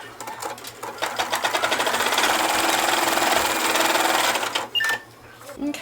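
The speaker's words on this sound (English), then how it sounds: "I'm going to hit the button start, and it's going to stitch out some placement lines for that leaf." An embroidery machine stitches placement lines for a fabric leaf on an owl mug rug, a loud rapid needle rhythm running steadily for about four seconds before stopping, with a brief click and soft sounds after.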